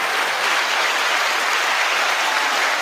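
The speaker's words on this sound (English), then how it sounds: "I believe this one's the applause." Applause effect played from a soundboard during a live sports talk show, a dense uninterrupted wash of clapping at steady loudness, alone with no voices.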